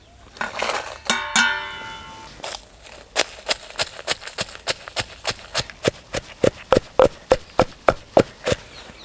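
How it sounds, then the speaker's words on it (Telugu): Dried red chillies pounded in a mortar for a traditional aubergine and onion dish, a long series of sharp, evenly spaced thuds that begin sparse and settle into a steady, close rhythm. "ఈ వంకాయలు చల్లారే లోపు ముందుగా ఎండుమిరపకాయలు దంపుకొని"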